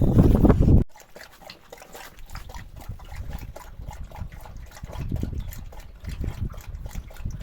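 A dog laps drinking water in quick, wet repeated slurps after a brief louder burst at the start, close and clear.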